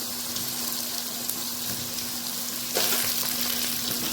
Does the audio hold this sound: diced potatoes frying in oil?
yes